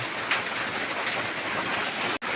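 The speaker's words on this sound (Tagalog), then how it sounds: "Ayan, napakalakas na po ng ulan," Dense, heavy rain pours down in a steady, loud hiss with no pauses, falling on a road.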